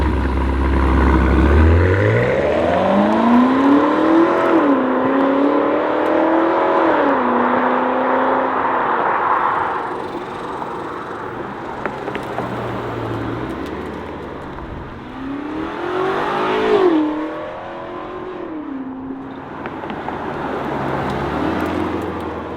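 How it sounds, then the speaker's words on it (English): A new G90 BMW M5 revs hard and loud through its open Valvetronic exhaust, pitch climbing and dropping across several pulls, with a second burst of revving later. "So that is it for the new BMW M5 Valvetronic exhaust."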